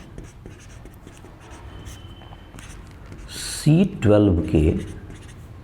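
Pen scratching across paper as a chemistry definition is written for a Class 11 lesson, soft steady strokes close by, with a brief burst of a man's speech near the end.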